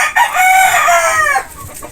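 A gray pullet and a Gilmore pullet in their coop give a loud, close, drawn-out clucking call that rises and fades over about two seconds.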